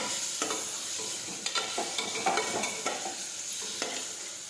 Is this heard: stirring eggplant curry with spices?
yes